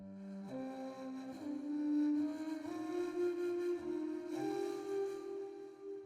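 A flute melody played through reverb and ping-pong delay, its sustained tones stepping from note to note and trailing echoes across a steady, fairly loud six-second phrase with no voices.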